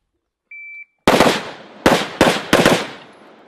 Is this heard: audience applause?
no